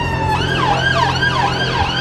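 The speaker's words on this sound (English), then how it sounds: "Oh my God, more sirens." A wailing siren rises and falls repeatedly at a car meet, loud and continuous, with a low rumble of traffic underneath.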